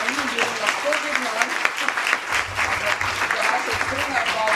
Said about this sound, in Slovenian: Tako da zaploskamo naši sogovornika